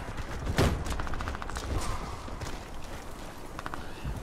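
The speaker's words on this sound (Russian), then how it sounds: "Кидаю гранату." A grenade goes off in a shooter video game with one sharp, loud blast near the start, followed by scattered bursts of gunfire and clattering game noise.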